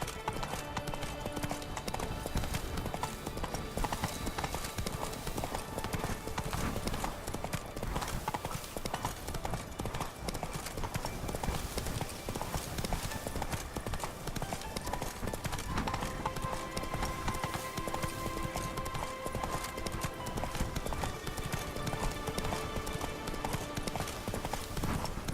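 Roach, a horse in The Witcher 3, trots steadily with a continuous rhythmic clip-clop of hooves under a busy ambient game soundscape, close and sustained throughout.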